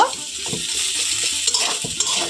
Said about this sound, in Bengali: ধনে পাতাটা দিয়ে খুব ভালোভাবে আবারও একটু সময় নাড়াচাড়া করে নেব